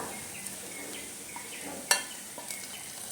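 Onions and curry leaves fry in a pan for a horse gram curry. A quiet, steady sizzle runs throughout, with a few faint pops and one sharper click.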